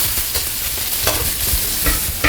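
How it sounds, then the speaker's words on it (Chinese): Radish strips being stir-fried in a wok, a steady sizzle and frying hiss with repeated scraping stirs of the spatula, close and continuous with no talk. "继续翻炒它。"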